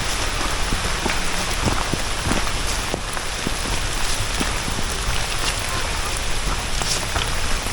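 Heavy rain pours steadily on a mountain trail up Gunung Kembang via Lengkong, a dense, unbroken hiss with scattered close drops and faint taps throughout.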